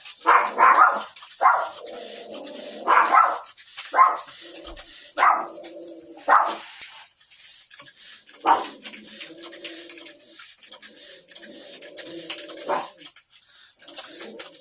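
Dogs bark in repeated bursts, several sharp woofs clustered at the start and then scattered barks with pauses between them, fairly close by.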